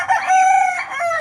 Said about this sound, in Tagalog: Yung mga alaga ng kapitbahay kong manok na panabong.